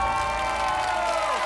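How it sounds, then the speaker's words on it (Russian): A studio audience on a Russian TV game show with child prodigies claps and cheers in a brief, dense burst of applause with no voices on top. "Да что вы аплодируете, мы проигрываем."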